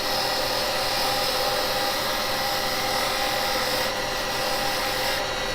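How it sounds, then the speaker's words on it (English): A carbide chisel takes a finishing cut on wood spinning on a lathe, producing a loud, steady, rough scraping whir over the motor's hum, continuous for the whole stretch with no speech. "Coming for a finished cut now."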